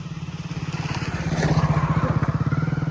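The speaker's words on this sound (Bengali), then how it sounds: "না না বাইক আসছে দেখে গাইস এই এই রাস্তায় একটা সমস্যা" A motorcycle engine chugs in a steady rapid pulse, growing louder as it nears, with a faint voice underneath.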